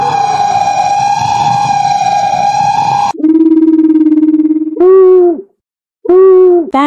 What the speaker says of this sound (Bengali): প্যাঁচার ঘুটঘুটে ডাকে পরিবেশটা আরও ভয়ানক করে দিল।